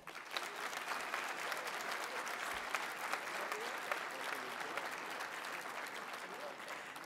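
An audience at a political networking conference applauds Craig Dellandrea with sustained, even clapping that carries on for several seconds at a moderate distance.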